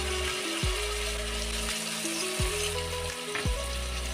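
Prepared spice paste for paneer lababdar sizzles and hisses steadily in a hot pan, a close, fairly loud frying sound running under low sustained tonal music.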